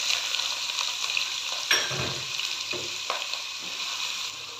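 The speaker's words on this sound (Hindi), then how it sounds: "ऑयल हमारा गर्म हो गया है, तो इसमें मैं प्याज शामिल कर दूंगी" Chopped onions drop into hot oil for daal mash keema cooked with desi ghee, setting off a steady close sizzle with sharper crackles and a few stirring scrapes partway through.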